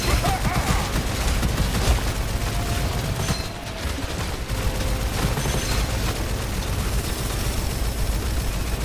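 Monsters blowing apart in the first-person shooter Gunfire Reborn during a co-op match, with a dense, continuous barrage of gunfire and explosive bursts at steady loudness throughout.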